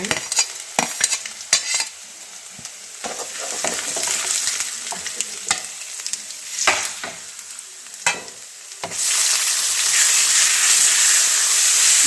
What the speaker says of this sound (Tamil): இப்போ இஞ்சி போட்டுடலாங்க பூண்டும் போட்டுடலாங்க மிளகு ஒரு ஏலக்காய் போட்டுக்கலாங்க